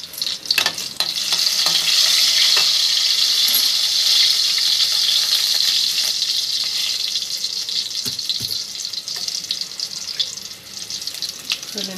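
Crushed garlic dropped into hot oil for a gonguru curry, a loud, dense sizzle and crackle that stays strong for several seconds, then eases slightly, with small spatters and scrapes throughout, no talking.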